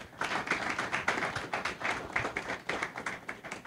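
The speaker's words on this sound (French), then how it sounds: "je vous demande de bien vouloir l'applaudir" A seated audience at a formal presentation event applauds, with steady, even clapping from a modest group, close and continuous across the whole stretch with no talking.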